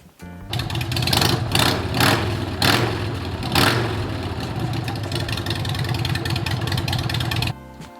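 Harley-Davidson Sportster scrambler motorcycle engine idling with a loud exhaust, a steady deep rumble that stays close and strong for about seven seconds, then stops.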